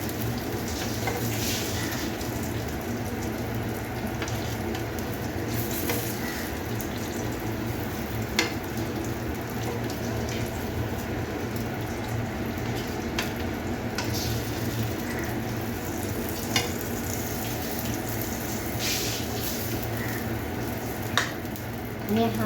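Eggplant slices fry crisp in a pan with a steady, dense sizzle throughout, broken by faint occasional clicks and scrapes, with no talk over it.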